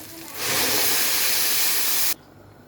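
Water poured into a hot pot of rice seasoned with salt, black pepper, cumin and rice spices, giving a loud, sustained steam hiss that cuts off sharply after about two seconds, no talking.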